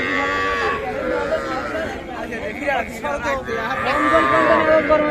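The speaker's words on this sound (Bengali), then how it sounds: "এটা বেচা কিনা শৌখিন একটা বকনা বাচ্চা আর ওটা তো ষাঁড় বাচ্চা" Young cattle, heifer and bull calves, moo loudly and repeatedly at the crowded Aftabganj livestock market, several drawn-out calls overlapping amid steady crowd chatter and people talking nearby.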